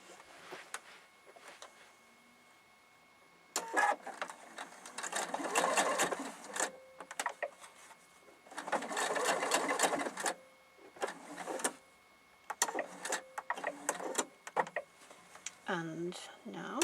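A sewing machine stitches through a quilted wreath in several close bursts of rapid mechanical chatter separated by pauses.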